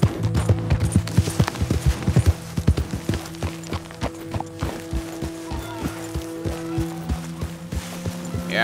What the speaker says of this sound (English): I'm walking here with my horse